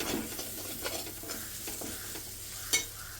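Chilli powder and coriander powder are stirred into a sizzling pan, giving soft scraping strokes over a low, steady frying hiss and one sharp clink near the end, fairly quiet overall.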